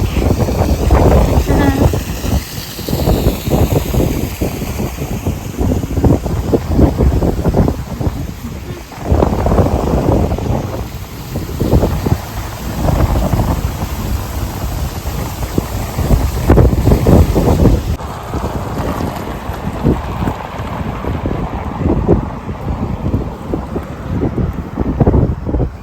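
Strong wind buffets the microphone outdoors near a train line, a constant loud rumble with gusty surges throughout. It continues under talk.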